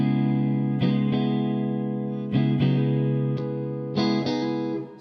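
An electric guitar plays through a Budda Verbmaster 30 amp with the bright switch pulled, ringing sustained chords that are struck again every second or so, loud and full with a slight fuzzy edge and no talk.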